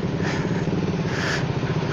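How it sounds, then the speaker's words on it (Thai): A Honda Forza 300 scooter accelerates at full throttle on a wet road after rain, giving a steady, close engine drone that holds at an even loudness for the whole short stretch. "นี่ออกตัวบิดเต็มๆนี่รอฟรีเลยนะแหละลองไหมล่ะ"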